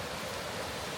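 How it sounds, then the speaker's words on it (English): A waterfall near compression ice gives a steady, even rush of falling water, unbroken and fairly soft across the whole moment. "it's all right here close to this amazing waterfall. There's the waterfall."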